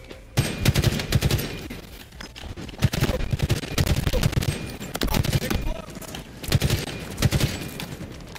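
The needler weapon in Halo Infinite fires in rapid, crackling bursts, with repeated volleys of sharp shots close up and loud, and a player's voice heard between them.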